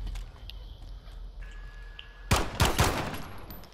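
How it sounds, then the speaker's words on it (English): Pistol fire in Call of Duty: Modern Warfare, heard as a few sharp, loud game gunshots in quick succession after a quieter stretch of in-game ambience, with no speech over the shots. "Now he knows it's a pistol."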